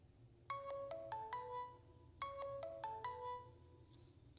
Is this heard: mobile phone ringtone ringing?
yes